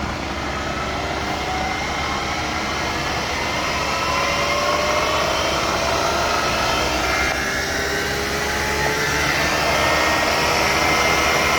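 A Bridgeport Series 1 knee mill with a rebuilt 2 HP head runs in a machinery showroom, a loud, steady motor whine and whir whose pitch slowly climbs as the speed is turned up.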